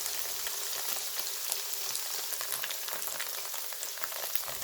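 Tofu pan-frying in oil, a faint, even crackle and hiss of fine popping throughout, with no one speaking.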